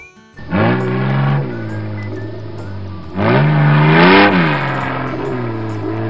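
A vehicle driving on sand dunes revs in two loud bursts, the engine pitch rising and falling with acceleration, heard close with a quieter idle between.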